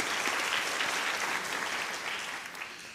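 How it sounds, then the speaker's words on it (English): An audience applauds at a teacher of the year awards ceremony, dense steady clapping from a full room that lasts throughout and tapers slightly at the end. "Let's give them all a round of applause for their great work."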